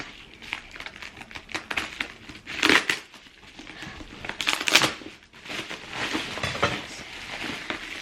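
Crinkling and crushing of cardboard and packing material, with bursts of tearing and rustling as a damaged box holding a Chanel vintage camera bag is pulled open up close.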